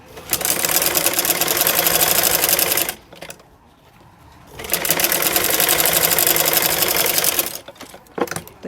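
Sewing machine stitching a trouser seam, two long runs of rapid, loud, even rattling stitching separated by a quiet pause, then a short burst at the end.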